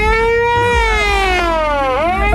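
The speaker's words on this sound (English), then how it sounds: "we have John on the siren" A siren-like wail sounded by a person during a casual sports chat show, a single rising-then-falling harmonic tone lasting about two seconds, loud and close, with no talking over it.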